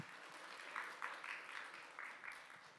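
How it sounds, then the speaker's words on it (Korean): A small church congregation applauds, a soft steady patter of clapping from a modest crowd lasting a few seconds. "박수하겠습니다."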